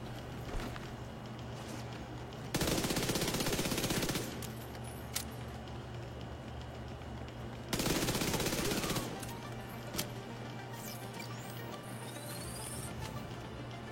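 Two long bursts of rapid video-game gunfire from a sniper shotgun, each lasting over a second, separated by a quiet stretch with faint clicks over a low background hum.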